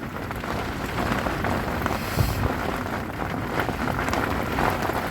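Steady gusting wind from Storm Darragh buffets the microphone while rain patters on a surface at a carp fishery lake, a continuous rough roar with no voices.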